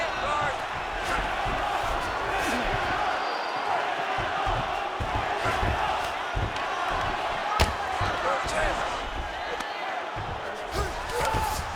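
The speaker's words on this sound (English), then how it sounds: "big pop from the crowd as they get back to their feet after a pretty scintillating grappling battle there on the ground" A dense, steady crowd roar fills an MMA arena as two grapplers rise from a ground battle, loud and unbroken throughout with occasional sharper bursts.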